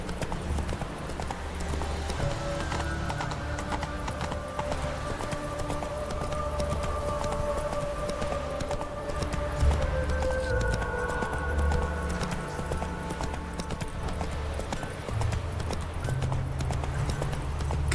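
Roach the horse gallops in The Witcher 3, hooves clip-clopping in a steady, quick rhythm close by, with music and ambient game sounds underneath and no speech over it.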